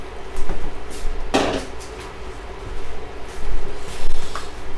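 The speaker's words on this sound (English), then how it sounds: "Now you want to go ahead and add your seafood." Mussels drop into a pot of simmering tomato sauce with one sharp clattering thump of shells against metal, followed by a few faint clinks over a low kitchen hum.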